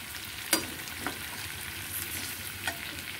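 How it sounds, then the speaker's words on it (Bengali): A pan of cooking for butter methi chicken being stirred over the heat, a soft continuous sizzle broken by a few sharp scrapes and clinks of the spoon against the pan. "এটাকে একটু ভালো করে নাড়িয়ে নেব।"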